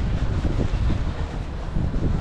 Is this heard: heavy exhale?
no